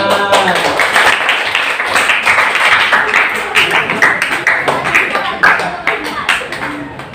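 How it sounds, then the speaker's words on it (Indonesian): Students in a chemistry classroom clap together on cue, a loud, close patter of hands with distinct individual claps in a loose rhythm, mixed with some voices and fading a little toward the end. "masih beri tepuk tangan."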